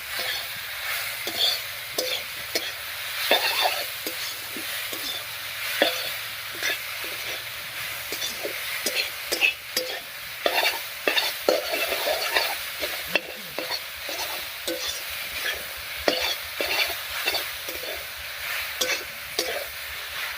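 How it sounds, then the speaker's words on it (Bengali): Sweet potato greens frying over raised gas heat in a pan, a continuous close sizzle with frequent spatula stirring clatters and scrapes running through the whole stretch, no voices. "গ্যাসের আস্তা বাড়িয়ে দিয়ে শাকটা বেশ ভাজা ভাজা করে নিয়েছি"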